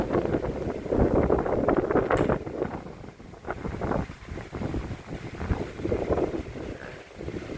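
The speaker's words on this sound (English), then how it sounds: "You can see how bad the wind blows." Strong wind gusts roar across a microphone outside a hillside house, a continuous rough buffeting that swells and eases in heavy, uneven waves with no voices.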